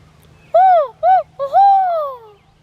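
A person's voice imitates an owl hoot outdoors: three close, clear hooting calls, two short and one longer drawn-out one, alone over a faint low background hum.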